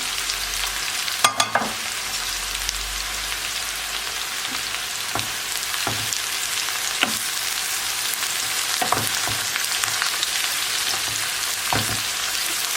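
Food frying in a pan for a haluj recipe gives a steady, loud sizzle throughout, with occasional scraping and tapping of a utensil as it is stirred, no voices.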